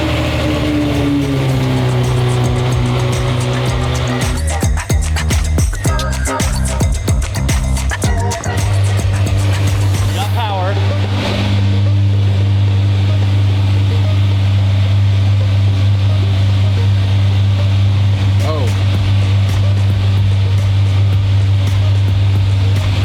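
A Ferrari 599 engine idles steadily and loudly, used to jump-start a McLaren 720GTR, with a burst of revving and clattering before it settles into a sustained, close, even drone.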